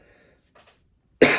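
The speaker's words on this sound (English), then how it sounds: "I was trying not to cough." One sharp, loud cough breaks out near the end after a short quiet stretch with faint rustling. It is close and forceful, with no talking around it.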